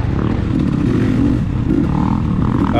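A dirt bike engine roars steadily close by during a motocross race, a continuous loud growl with clattering and scraping as the rider tears past.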